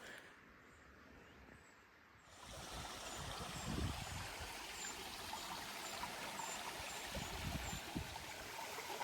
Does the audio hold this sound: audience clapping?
no